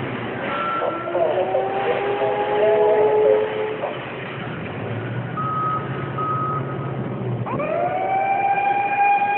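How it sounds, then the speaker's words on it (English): Namco fire truck arcade machine in a Walmart playing electronic siren tones and beeping game sounds, with wavering whistle-like pitches amid steady store background noise. "Namco fire truck"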